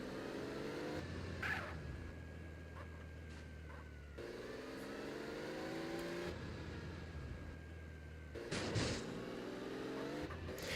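A car drives in GTA San Andreas, its engine droning and revving through repeated gear shifts, with tire noise and passing traffic, loud and close throughout.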